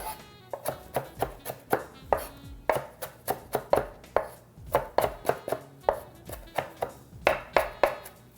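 A knife finely chops food on a board in quick, evenly spaced strikes, about three per second, close and crisp, with no talking.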